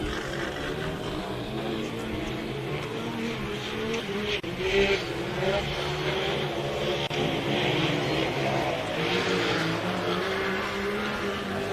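Production turbo UTVs racing on a dirt short course at Glen Helen, engines roaring continuously at a distance with shifting revs and a crowd-like wash throughout.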